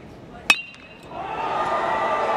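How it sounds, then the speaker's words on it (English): A bat strikes a ball for a solo home run in a 2021 Duke vs Wright State college baseball elimination game at the Knoxville Regional: one sharp, ringing crack, then a stadium crowd swelling into sustained cheering. "Is it a three-homer game for RJ Shrek? It is gone. A solo blast."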